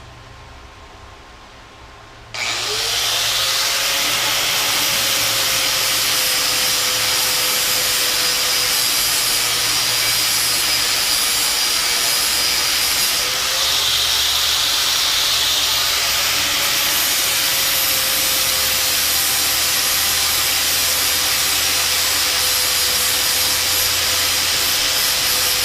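An angle grinder disc grinds excess weld off a steel welding table, a loud sustained roar with a steady whine that starts abruptly after a short quiet moment and runs without pause.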